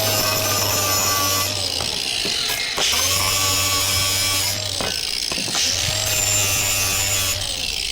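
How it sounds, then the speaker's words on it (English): Angle grinder working the outer surface of a metal edging shovel blade, a loud continuous whine with steady harmonic tones, briefly dipping and restarting twice as the disc is lifted and pressed back onto the steel. "Now I just got to grind off the outer surface here."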